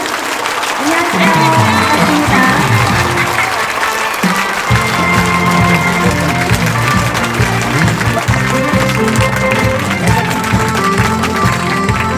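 Audience applause welcoming a Korean singer on stage at a live performance, steady and full throughout with crowd noise blended in and music starting beneath.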